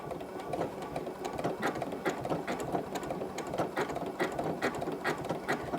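Sewing machine running steadily, stitching a quilt block onto a piece of clothing, with a fast, even mechanical rhythm of needle strokes and a slight periodic pulsing throughout, close and continuous with no talking.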